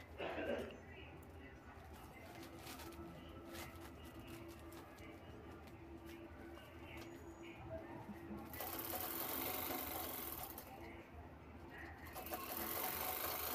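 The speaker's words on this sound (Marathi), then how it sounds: "आतल्या साईडने ती पट्टी फोल्ड करून शिवून घ्यायची आहे" Sewing machine stitching a fabric shopping bag, a low steady mechanical whir that grows louder and busier toward the end, with faint background noise.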